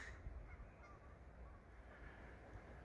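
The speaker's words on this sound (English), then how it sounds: "Geese ahoy." Geese honk repeatedly in the distance over a steady low rumble of outdoor background noise.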